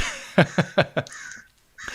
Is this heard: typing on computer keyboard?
no